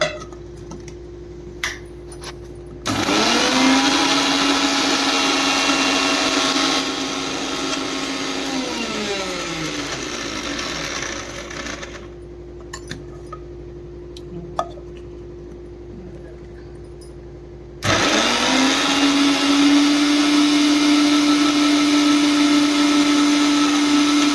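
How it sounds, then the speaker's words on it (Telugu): A mixer grinder whirs loudly as it grinds cardamom with sugar in a jar, running in two bursts with a quieter stretch and small clicks between them. "మిక్సీ జాడి తీసుకొని యాలకుల పొడి చేసుకుందాము"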